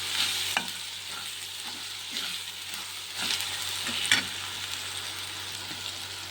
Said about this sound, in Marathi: चांगल्या प्रकारे कलसून घ्यायचं आहे.